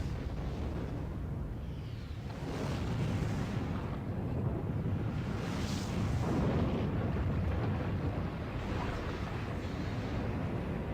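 Explosion in the video game Lunar 2 Eternal Blue, a sustained rumbling blast that swells in two broad waves and stays loud and dense the whole time.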